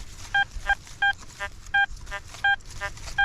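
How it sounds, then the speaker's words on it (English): Rapid series of short, bright electronic beeps from an XP Deus 2 metal detector as it passes over iron, choppy and grunting in rhythm over a low background rumble, with no talking. "you hear some iron grunting there, just like the Manticore was doing"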